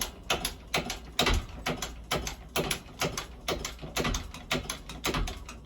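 A wheel bearing being tightened down into the hub of a 1990 Honda Civic EF, heard as a rapid series of loud metallic ratcheting clicks in quick rhythmic bursts, close by, with no talking.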